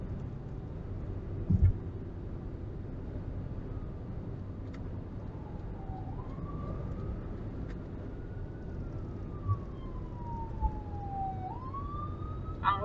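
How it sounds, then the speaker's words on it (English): An ambulance siren wails in the distance, a single rising and falling tone sweeping slowly over steady traffic rumble, moderately faint and never getting close. "There's that ambulance."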